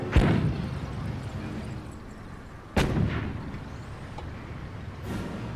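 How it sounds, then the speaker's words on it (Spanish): Heavy artillery blasts and rifle fire in the World War II strategy game Company of Heroes. Three sharp booming explosions ring out and decay over rolling background gunfire, with faint in-game voices. "¡Los nazis nos disparan!"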